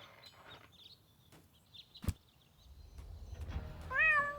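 A cat meows in the PC adventure game Deponia, a short rising cry near the end following a sharp thump, over quiet game ambience with faint chirps.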